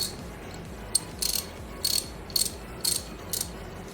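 A 72-tooth reversible ratchet wrench from a 1/4-inch and 3/8-inch drive socket set gives five or six short, crisp bursts of rapid clicking, close and clear against a quiet background.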